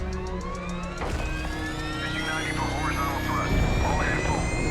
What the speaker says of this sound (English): You then hop in an aircraft to fly to space for the next portion of the mission